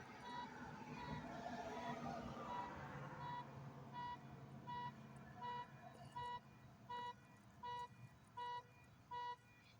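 A car alarm beeps in a quick, evenly spaced series of about eight short electronic tones. The beeps are fairly loud and clear, following a muffled, noisy stretch at the start.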